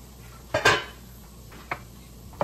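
Egg mixture being stirred in a pan with a utensil, giving a few separate clinks and scrapes of metal against the pan, with one louder scrape followed by lighter taps.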